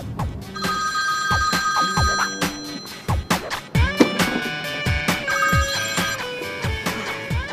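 A telephone rings with a repeating, bright musical ringtone pattern over a rhythmic backing, loud and close, continuing steadily throughout.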